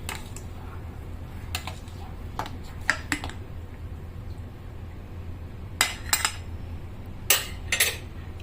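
A spoon stirs a hot sago papad mixture in a metal pot, giving irregular clinks and scrapes against the rim over a low steady background hum, with no voices.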